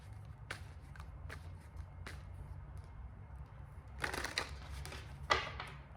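Tarot cards being shuffled close by, with a few soft isolated riffles followed by a denser burst of quick card flicks over a low steady hum.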